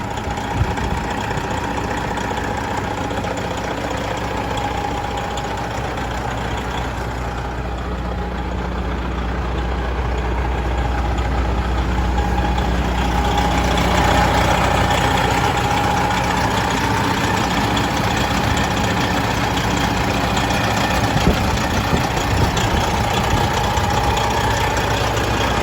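A 2011 Freightliner Coronado glider kit truck with air-ride front end idles hot after an hour of running, a steady low diesel rumble close by and continuous throughout.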